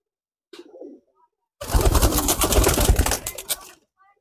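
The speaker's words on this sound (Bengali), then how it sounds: "তো কবুতর একটু ছেড়ে দেখাইতেছি" Pigeons are released and take off in a loud, dense burst of wing flapping that lasts about two seconds, after a brief soft coo-like call nearby.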